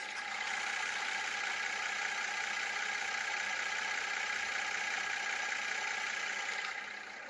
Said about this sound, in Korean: 3500cc V6 엔진 소리 한번 들려드릴게요